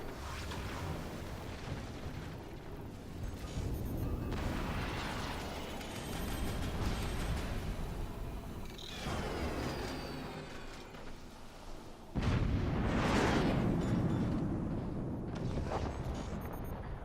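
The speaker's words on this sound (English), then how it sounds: "As here come the fire beams." Fire beam weapons discharging in a competitive strategy game match, a series of loud sweeping whooshes with rumbling bursts, the strongest blast near the end, over steady game noise.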